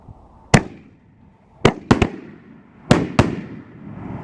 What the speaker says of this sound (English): The thumps on these when they're leaving the tube is pretty loud too